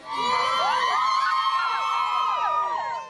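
Small, dedicated crowd cheering and whooping at a royal public engagement in Australia, a steady wash of voices and excited shouts held at moderate loudness for a few seconds.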